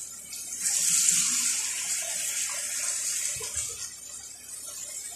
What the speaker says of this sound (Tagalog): Ibigisa ko lang ng konti tapos nalagyan ko ng tubig.